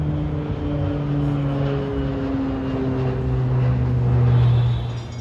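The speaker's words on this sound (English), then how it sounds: "Looks like a cargo plane." A cargo plane passes overhead on a sunny day near a railway line, its steady engine drone holding loud and continuous throughout and swelling slightly toward the end.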